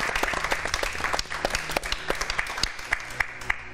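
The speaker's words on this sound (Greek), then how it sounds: "Εγώ θα χειροκροτήσω." A studio audience on a Greek television talk show applauds steadily, a dense wash of many hands clapping with sharper individual claps standing out near the end.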